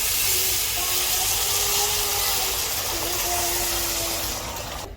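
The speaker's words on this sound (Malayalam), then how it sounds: "അപ്പോൾ ഇതിലേക്ക് തിളച്ച വെള്ളം ഒഴിച്ചു കൊടുക്കാം." Boiling water poured into a pot of fried rice for green chicken biryani, giving a steady loud gushing, hissing rush that runs for about five seconds and eases off at the end.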